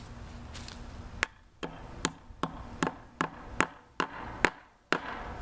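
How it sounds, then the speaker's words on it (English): A hammer pounds the bent wire end in while fastening a support wire on a T truss, about ten sharp, close metallic taps at an irregular, quickening pace with short quiet gaps between. "Pound it in, that'll keep it from"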